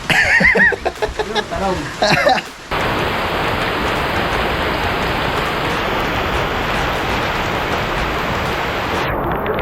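Heavy rain pours down in a steady, dense hiss that holds unbroken for several seconds, following a brief moment of people talking.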